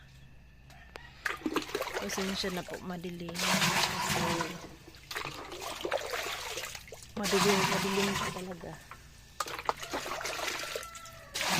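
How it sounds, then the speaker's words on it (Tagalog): Water gushes and splashes into storage containers in a kitchen in surging bursts, with a person talking quietly over the running stream and some clatter. "nag-iipon po ako ng tubig dito sa aming kusina"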